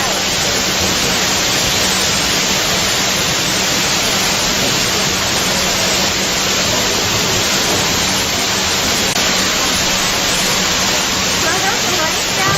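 A heavy, constant waterfall roar under low clouds, loud and near, holding an even, unbroken rush throughout with no pauses.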